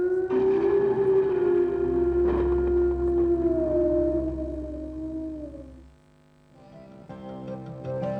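A long, wavering wolf howl rises and slowly falls, loud and drawn out, then fades into a brief quiet before faint sounds return.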